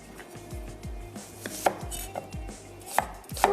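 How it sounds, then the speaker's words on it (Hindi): Onions being roughly chopped with a knife on a board for seekh kebab mince, a steady run of close, crisp knife strikes with a few louder thuds, no talking. "थोड़ा सा रफली चॉप कर रहे हैं"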